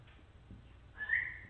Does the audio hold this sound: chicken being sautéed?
no